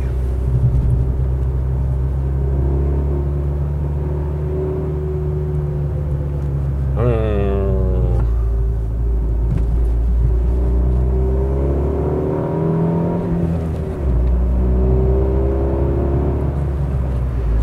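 A Fiat 500 cruising in sixth gear, its engine a steady low hum under constant road rumble inside the cabin, with someone talking over it most of the way.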